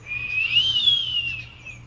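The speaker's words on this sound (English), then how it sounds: "came out a long," A long, slow whistle, a single sustained tone that rises then gently falls over about two seconds, clear and close over a quiet low hum.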